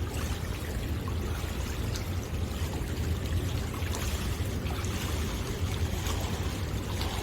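Steady churning and splashing of water as a swimmer performs breaststroke kicks while treading in deep water, a continuous close wash of sloshing with no pauses or voices.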